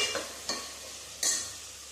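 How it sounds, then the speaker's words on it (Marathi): Carrots and peas being sautéed in oil, a soft continuous sizzle punctuated by a few quick scraping stirs of a spatula against the pan, close by and without speech. "आता मस्त असं तेलामध्ये हे परतून घ्यायचं आपल्याला"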